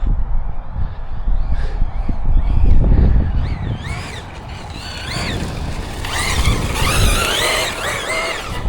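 A Team Corally Shiroi 6S RC truck bounding over rough ground, a rumbling, rattling stretch of suspension and tyre noise with high whining motor squeals breaking through toward the end.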